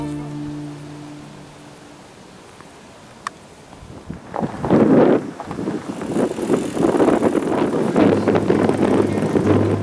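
Wind gusts buffet the microphone, starting calm then building into rough, roaring blasts that continue to the end.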